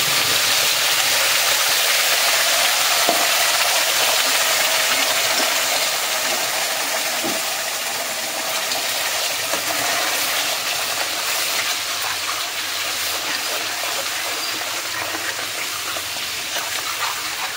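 Masala paste sizzles and hisses loudly in a hot pan for pav bhaji, a continuous, near frying crackle with occasional pops, with no talking.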